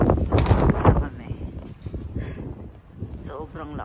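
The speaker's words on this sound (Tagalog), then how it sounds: "Sobrang lakas ng hangin." Gusty strong wind buffets the microphone with rough, rumbling surges while a person talks over it throughout.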